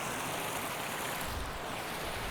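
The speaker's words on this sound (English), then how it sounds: "I heard about this waterfall at the bottom of Helvellyn just now." Waterfall at the foot of Helvellyn in the Lake District, a steady close wash of rushing water with constant broadband roar throughout and no voices.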